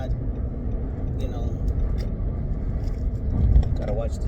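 Road traffic rolls past at close range, a steady low rumble of car and vehicle noise that swells briefly toward the end, with faint scrapes and jingles mixed in.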